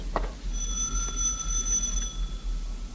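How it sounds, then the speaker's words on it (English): A single sustained electric ring, like a buzzing doorbell at an apartment building, held for about two seconds over a low hum, with no voices. "rings a doorbell marked Superintendent"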